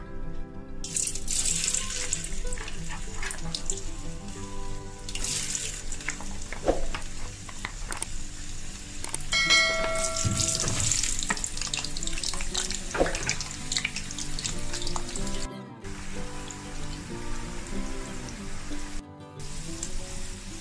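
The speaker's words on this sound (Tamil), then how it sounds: "அதில் எண்ணெய் சூடானதும் 1 hour நம்ம ஃப்ரீசர்ல வச்ச அந்த பொட்டேட்டோ எடுத்து இதில் ஃப்ரை பண்ணிக்கலாம்" Continuous bubbling sizzle of frozen potato fries frying in hot oil, steady and close, with occasional clinks of utensils against the pan.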